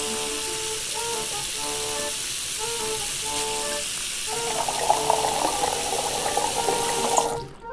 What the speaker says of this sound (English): Let's get some water.